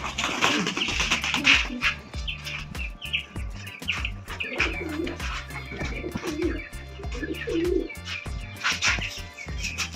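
Pigeons coo steadily in a low, throaty rhythm, several birds overlapping close by, with occasional higher chirps mixed in.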